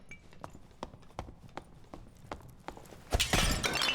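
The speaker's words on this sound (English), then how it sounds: "the slight sounds, and now the clear sounds, of footsteps" Footsteps in a dark dungeon in the video game Dark and Darker, a steady run of hard, faint footfalls roughly every half second on a stone floor, ending in a louder crash of noise, with no talk.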